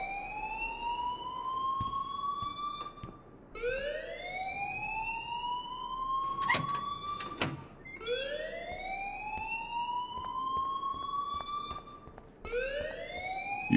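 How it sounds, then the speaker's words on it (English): A fire alarm in the video game Life is Strange wails in repeated rising sweeps, each lasting a few seconds, loud and continuous, with a couple of sharp clanks mixed in. "please turn off that alarm since that's your job"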